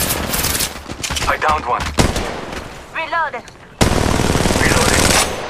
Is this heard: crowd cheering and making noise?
no